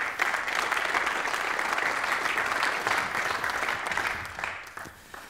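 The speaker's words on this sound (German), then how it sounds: "Bitte begrüßen Sie mit einem herzlichen Applaus" Conference audience at an energy briefing welcomes a speaker with warm applause, a full, steady wash of clapping from a crowd that tapers off toward the end.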